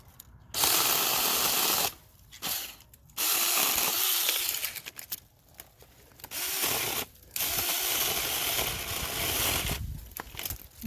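A small battery-powered chainsaw cuts through a section of wood beside a pack rat nest, its close, loud whine coming in about four sustained bursts separated by short pauses.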